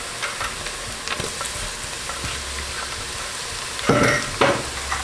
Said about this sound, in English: So at this point I'm going to put my garlic and ginger.